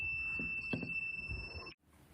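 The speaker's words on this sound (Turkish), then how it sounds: "Buradan çalıştırdığımız mı böyle deprem alarmını hemen alabiliyorsunuz." A homemade earthquake alarm device sounds as a steady high-pitched electronic whine for under two seconds, then cuts off abruptly, with faint knocks and room noise beneath it.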